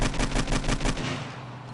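Rapid bursts of AK rifle fire in a first-person shooter video game, a dense automatic stutter of loud, close shots for about a second before cutting off to a fading echo.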